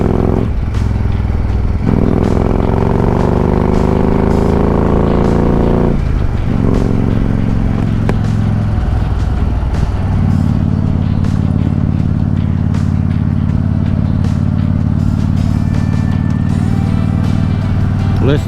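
A motorcycle rides along a valley road on a cloudy day, its engine droning loud and close throughout with steady low rumble and shifts in pitch as it changes speed.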